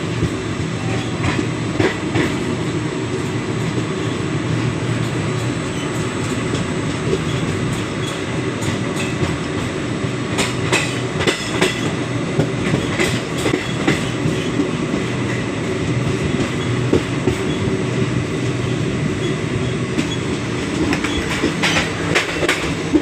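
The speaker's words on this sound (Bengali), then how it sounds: "সিউড়ি টু সুরাট ট্রেন ধরেছি বৈকাল 4টের সময়।" A passenger train from Suri to Surat, heard from inside a third-class AC coach, rumbles steadily along the rails with repeated clickety-clack wheel beats and occasional sharper metallic clatters over a long continuous run.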